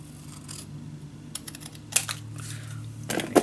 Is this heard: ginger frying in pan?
no